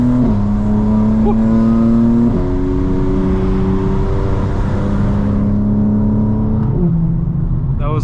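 A 900hp 2025 BMW M4 Competition xDrive revs and pulls hard close up at night, its engine note climbing through several gears with brief dips at each shift over about eight seconds.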